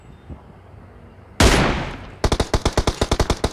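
Gunfire erupts in PUBG Mobile zombie mode: one loud, sharp blast, then a rapid automatic burst of about a dozen evenly spaced shots, close and punchy with no talking.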